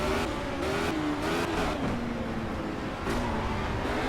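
A race car engine in the Project Cars racing game roars steadily at high revs throughout, its pitch sliding up and down as it shifts, with no talk over it.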